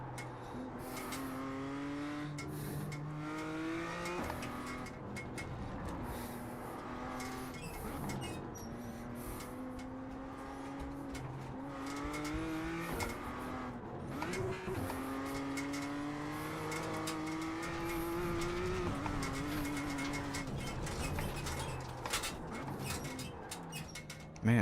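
A Formula 4 race car at Laguna Seca in a racing video game holds a steady, droning engine note throughout. The pitch rises with repeated upshifts and falls on downshifts, while faint talk and radio calls sit underneath.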